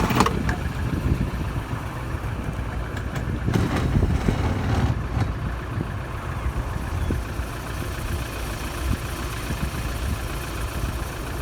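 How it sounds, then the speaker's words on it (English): A car engine idles while warming up before towing a caravan, a low, steady rumble under a broad hiss, with a few brief knocks and rattles nearby and no talking. "So you've got the engine warming up."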